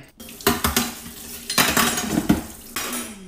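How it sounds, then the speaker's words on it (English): Dishes being banged around in a kitchen: several loud, sharp clattering crashes of plates and pots in quick bursts, close by, with no talking. "You better stop banging those fucking dishes around."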